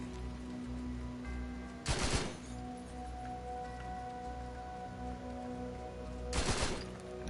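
Short bursts of machine gun fire from a sawed-off barrel weapon in The Outer Worlds 2, fired while sprinting: two brief rattling volleys, well separated, over a steady bed of game ambience and music.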